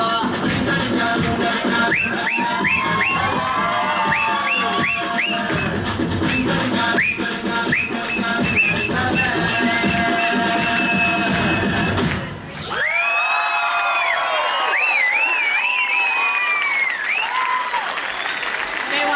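Loud audience applause and cheering after a dance performance, with dense clapping and whoops filling the hall; the clapping drops away briefly midway, then excited cheers and shouts return.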